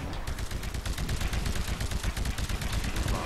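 Rapid, steady automatic gunfire from the video game Titanfall rattles continuously in close, loud bursts with no pauses, alone without talking.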